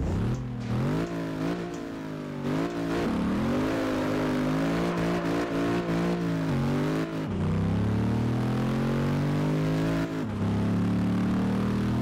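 A deep, throaty Camaro V8 engine in the video game Test Drive Unlimited 2 revs and drones continuously, pitch rising through gears with brief drops at shifts, loud and close with no talking.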